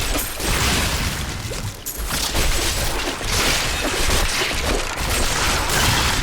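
Loud, dense bursts of exploding enemies and gunfire-like blasts in the action game Diablo 3, continuous and chaotic throughout with no talking.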